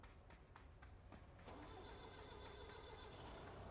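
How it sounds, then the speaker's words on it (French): A car engine starts in the video game Control, with a few sharp cranking clicks followed by the motor catching and settling into a steady, moderately loud running hum. "Ça, c'est une voiture."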